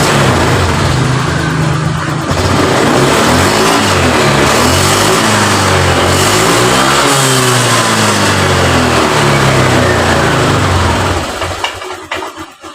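A Honda Vario LED scooter with a hesitating engine that sometimes stalls revs loudly and steadily under throttle, pitch rising and falling in repeated sweeps before dropping away near the end.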